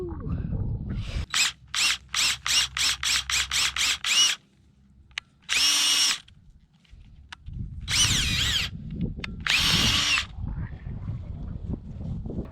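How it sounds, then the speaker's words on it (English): A power drill boring holes outdoors for blackberry row posts, a rapid series of short whining bursts followed by a few longer runs, loud and close with outdoor background between. "We've now got all of our holes drilled for all 3 rows out through here"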